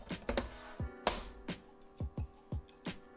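Keystrokes on a computer keyboard entering a terminal command, about a dozen sharp, distinct clicks at an uneven typing pace with a couple of louder strikes, close and clear with no speech.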